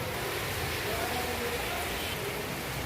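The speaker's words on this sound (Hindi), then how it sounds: "मूसलाधार बारिश हो रही है" Heavy monsoon downpour in a steady broadband hiss, dense and continuous throughout with no distinct drops standing out.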